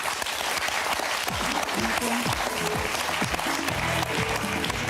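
Studio audience on the French game show Motus applauds loudly in a Christmas special, a dense, sustained roar of clapping with music playing underneath throughout.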